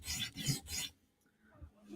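A coated knife blade's heel is sharpened, three quick rasping strokes close and fairly loud, followed by a quiet pause.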